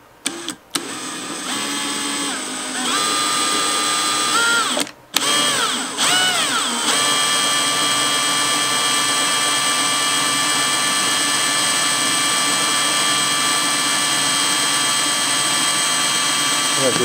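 A drill bores out an acoustic guitar bridge to fit a Fishman Ellipse Matrix piezo saddle pickup, giving a steady close whine that starts and stops briefly before running continuously.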